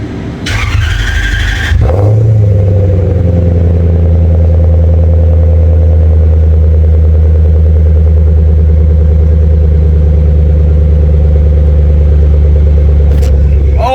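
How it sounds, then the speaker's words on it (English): A Lexus LS400 that has sat unused for a while is cold-started. The starter cranks briefly, then the engine catches and settles into a loud, steady, close idle with a deep rumble. "she hasn't ran in a while, so this is going to be a really cold start"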